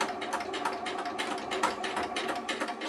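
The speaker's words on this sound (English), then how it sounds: "I am going to make sure I back stitch at the top" A sewing machine back-stitches along the edge of a cotton tea towel, giving a steady, close whirring patter of rapid needle strokes with slight rhythmic pulses and no talking.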